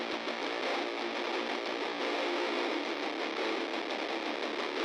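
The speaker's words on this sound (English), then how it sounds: "we get this kind of filtered radio guitar coming in" A dense, buzzy fuzz guitar plays continuously through a thin, band-limited filter, sounding boxy and radio-like at a steady loudness.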